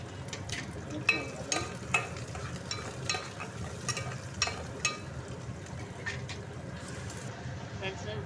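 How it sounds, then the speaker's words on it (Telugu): Onions frying in about three spoons of oil for a mutton and colocasia curry, a continuous sizzle with repeated stirring scrapes and clinks, while a voice talks at points. "ఆనియన్స్ అని వేస్తున్నాను."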